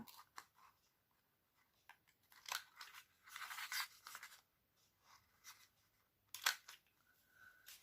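Scissors snip the small corners of paper for an envelope made from napkin-decorated pages, giving short crisp cuts and rustles, fairly quiet and close with pauses between, no talking.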